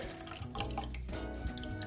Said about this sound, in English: Pour the rest of this milk in here.